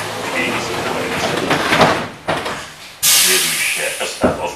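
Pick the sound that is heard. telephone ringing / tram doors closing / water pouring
tram doors closing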